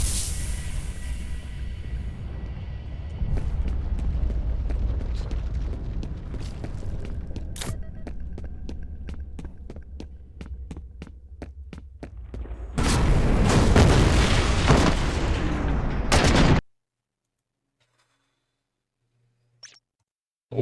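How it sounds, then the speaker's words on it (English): Booming blasts and crackling debris roll through a combat scene in the shooter game F.E.A.R., a sustained rumble broken by sharp cracks and a loud burst late on before cutting to near silence. "thought that was another cinematic explosion thing going on"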